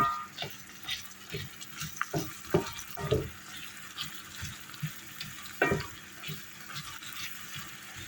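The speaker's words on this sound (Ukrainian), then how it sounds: "Ну, цибульку завжди трошки пасируємо." Onions sizzle and crackle steadily in hot sunflower oil, with intermittent stirring clatter and scraping over a constant frying hiss.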